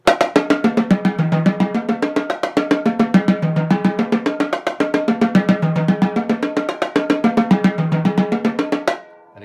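Drumline bass drums play a split in rapid sixteenth notes, a steady stream of sharp tuned hits whose pitch rises and falls across the drums in a repeating pattern, loud and alone, ending with a final stop.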